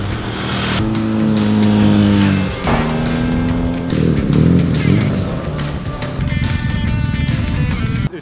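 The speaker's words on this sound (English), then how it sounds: "It's a high revving Ducati twin." A Ducati twin motorcycle engine runs loud and close, holding steady high revs with a sharp drop and pickup midway, gritty and continuous throughout.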